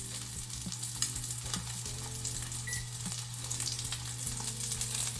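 Steak searing in a hot pan with rosemary and garlic, giving a steady, loud, continuous sizzle and crackle with a constant low hum beneath, close and without talk.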